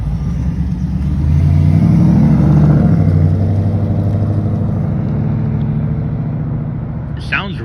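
A 2021 Mustang GT V8 fitted with a Flowmaster axle-back exhaust pulls away, its deep loud rumble swelling then easing as it drives off, with people talking over it near the end.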